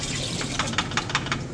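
Photographic film fixer poured from a developing tank back into a storage tub, a close gurgling liquid stream with quick sloshing pulses, no voices.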